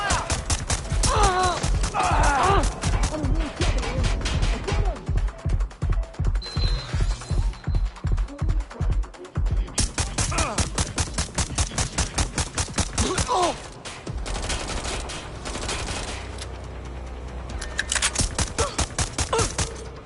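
Rapid, loud gunfire fills Watch Dogs: Legion combat, with dense repeated bursts of shots running almost without pause and brief lulls between volleys, under occasional voices.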